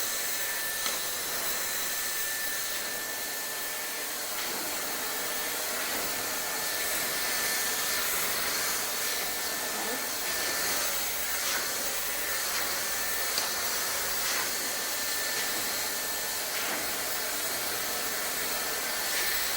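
A hair dryer fitted with a nozzle blows continuously while drying hair, giving a close, steady, loud airy hiss with a faint whine and no voices over it.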